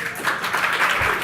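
An audience at the Google Analytics Summit 2013 keynote applauds in a brief, dense burst of steady clapping at moderate loudness.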